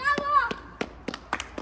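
A few scattered hand claps at a neighborhood volleyball game, loose and uneven rather than a steady rhythm, following a short child-like voice and played against faint background noise.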